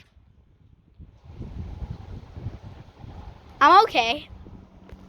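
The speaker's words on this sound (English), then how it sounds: "Oh, it's getting windy." Wind blowing outdoors in the rain, low rumbling gusts buffeting the microphone that build after a second and persist, with a short spoken phrase near the end.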